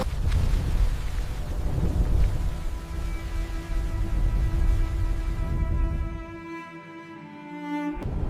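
A thunderstorm on an open plain: heavy, steady rain with deep rolling thunder that swells and recedes, fading toward the end into a lingering low tone, with no voices.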